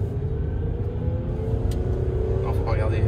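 Citroen C6 V6 HDi diesel car engine revving up as it accelerates, a steady low rumble building gradually in loudness, heard from inside the cabin with a voice speaking over it.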